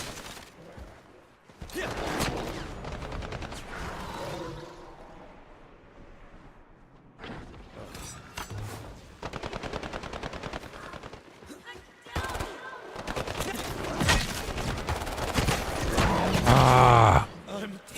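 Enemy gunfire in the HighGuard shooter comes in repeated rapid bursts and single cracks, loud and close, with gaps of quieter moments between volleys; a player talks and grunts over the shooting.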